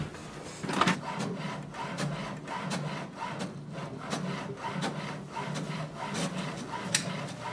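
An HP Smart Tank 580 printer running a double-sided copy job, giving a steady mechanical rubbing and whirring with repeated short clicks and paper-feed ticks throughout, moderately loud and close, with no talking.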